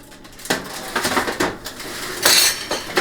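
A metal pan holding a baked keto pizza crust made with powdered egg whites is pulled from the oven, giving several sharp clanks and scrapes of metal with clinking in between, close and fairly loud.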